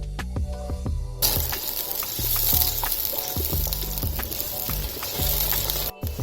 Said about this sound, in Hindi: इसमें मैं डाल रही हूँ 2 मीडियम साइज़ के प्याज चॉप किए हुए। अब हम कर लेंगे इसको हल्का सा सौटे।